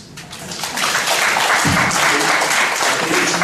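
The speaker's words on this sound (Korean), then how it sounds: "박수를 좀 보내드리도록 하겠습니다" Congregation in a church clapping together, a dense, even wash of applause that swells within the first second and holds steady and loud to the end.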